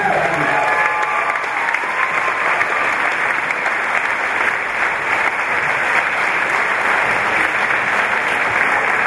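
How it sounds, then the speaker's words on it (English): A crowd at a jigs and reels event applauds JP in a steady, continuous wash of clapping that stays even and fairly loud from start to finish. "Big round of applause for JP."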